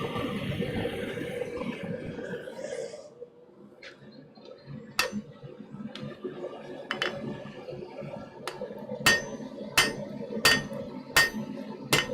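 Hammer blows on an anvil while forging a scroll in a smithy: a sparse series of sharp metallic strikes at an irregular then quickening pace, close and ringing after a stretch of rougher work noise.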